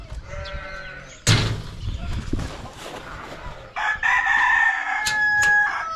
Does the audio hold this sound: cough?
no